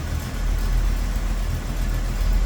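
A restored 1968 Pontiac Firebird with its original numbers-matching 400 V8 idles nearby, a steady low rumble with a slightly uneven lope and no talk.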